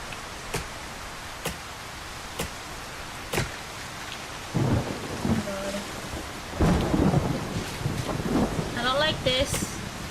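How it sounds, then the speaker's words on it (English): Thunderstorm with rain in the video game Solarpunk: several sharp thunder cracks at the start give way to rumbling thunder and steady rain with wind, loud and close, with some brief chirping game sounds near the end. "If it's too windy, it's not just gonna be some pure wind. It's storming."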